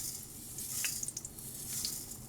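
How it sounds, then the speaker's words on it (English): Two tablespoons of oil sizzle in a hot skillet, a steady faint hiss with a few soft pops and crackles throughout, no voices. "We have 2 tablespoons of oil in a hot skillet."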